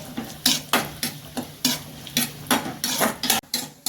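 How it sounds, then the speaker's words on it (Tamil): Cashews and raisins fry in a pan of hot fat, with a soft sizzle beneath repeated loud metal scrapes and taps of a spoon stirring against the pan, close and rhythmic. "முந்திரி சேர்த்துக்கிறேன் இந்த கிஸ்மிஸையும் சேர்த்துக்கிறேன்"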